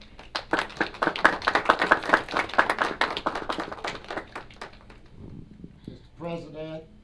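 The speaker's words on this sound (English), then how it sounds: "Another round of applause, please." An audience claps at a State of the City address, dense brisk applause for about five seconds that fades out, followed by a voice speaking.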